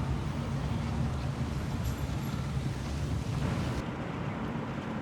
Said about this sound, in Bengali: পাহাড়ি সুন্দর ঠান্ডা হাওয়া জানলা খুলে দিলে।